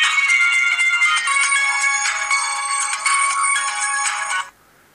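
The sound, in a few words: Xperia X3 phone shutdown sound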